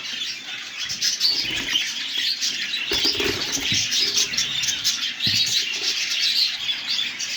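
A pet bird in a breeding cage chirps and tweets in quick, bright bursts close by, with a few squawks and a flutter of wings.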